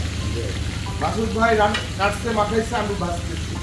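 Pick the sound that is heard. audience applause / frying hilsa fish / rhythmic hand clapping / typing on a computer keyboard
frying hilsa fish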